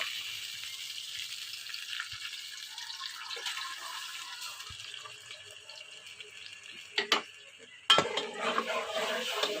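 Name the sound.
frying masala paste with tomatoes in pan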